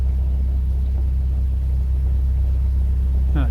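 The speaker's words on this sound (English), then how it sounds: "These lock gates really make a noise." Canal lock gates on the Rivers Lea and Stort give off a steady, loud low rumble with a constant grinding drone, heard up close from a narrowboat, and a brief higher scrape comes at the very end.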